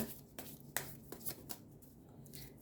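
Oracle cards being shuffled in a Thai love-horoscope reading, a series of soft papery riffles and taps spread evenly over a quiet room, close and fairly faint.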